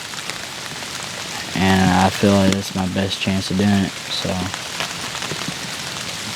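Hard rain falls in the Indiana woods during a deer hunt ahead of a cold front, a constant fine patter on surfaces that runs beneath someone speaking for a few seconds.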